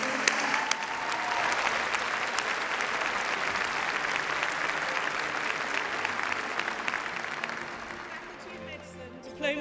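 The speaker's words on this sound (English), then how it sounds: "Please join me in a round of applause to the graduates." A large audience applauds graduates at a postgraduate graduation ceremony for the faculties of natural sciences and medicine: a dense, steady wash of clapping that holds for nearly ten seconds before easing slightly, with a voice briefly near the end.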